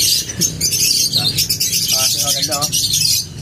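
A very young pet pigeon gives repeated chirping calls up close, short rapid bursts over a hissy background, with a person's voice audible nearby.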